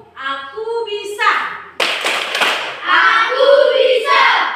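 A group of children does a rhythmic classroom clapping chant, sharp hand claps mixed with loud chanted voices and a teacher speaking, close and energetic.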